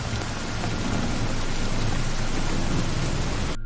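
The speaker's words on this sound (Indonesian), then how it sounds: "hujan sedang turun dengan derasnya" Heavy rain pours down in a dense, steady roar without a break, with a low rumble underneath, loud and close, and no voices.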